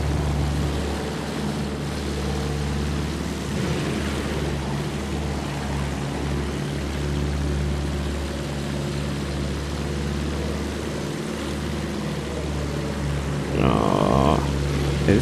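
A propeller plane's engine drones steadily in Battlefield 1, with a constant low hum lasting the whole stretch and a brief louder swell near the end.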